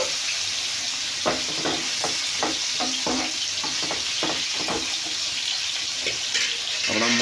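Chicken pieces frying in hot coconut oil in a pressure cooker for biryani, a steady sizzle with repeated stirring scrapes and clatters close by, no voices.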